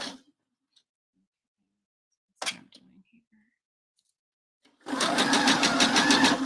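A sewing machine runs a base stitch about 4 millimetres long on bra fabric, a steady close mechanical whir lasting under two seconds after a few short bumps and a spoken word.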